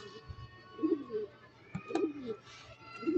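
Racing pigeons coo in short repeated throaty phrases close by as they are loaded into a trap, with a few soft knocks and handling sounds between the calls.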